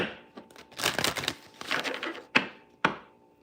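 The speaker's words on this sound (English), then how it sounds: "Okay, I'll do one more shuffle." A deck of cards being shuffled by hand during a spiritual arts reading produces riffling, papery rustles in two bursts, followed by two sharp taps as the deck is squared, close and clear with no talk.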